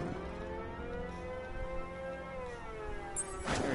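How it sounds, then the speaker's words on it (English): A siren in a Batman video game wails steadily with slowly sliding tones, loud and continuous for the whole stretch, with a brief noisy burst near the end. "Who's that ridiculous ass siren?"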